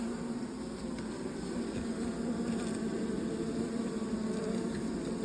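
A steady, dense buzzing of stingless uruçu nordestina bees swarms close around an opened hive, continuous and even throughout with no talking.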